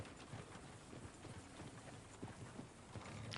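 Horse hooves clip-clopping in Red Dead Redemption 2 during a scripted event where horses have broken loose from a carriage; a steady, fairly close patter of hoofbeats over a dense, noisy background.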